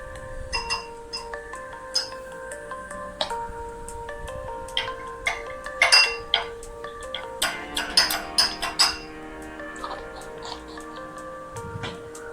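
A spoon clinks and taps against a glass container while a manjishta lip balm mixture is stirred, light irregular ticking strokes that quicken into a cluster of bright clinks near the end.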